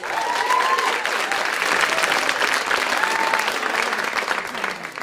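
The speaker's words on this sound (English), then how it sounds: "Round of applause for that." An audience at a live street dance event applauds steadily, a dense wash of clapping at moderate level holding for several seconds with a few scattered cheers.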